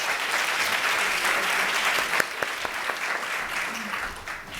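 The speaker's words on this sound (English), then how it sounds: "Please, round of applause for our panelists." An audience at a university panel event on gender equity gives a round of applause for the panelists, dense sustained clapping throughout with a few sharper claps standing out.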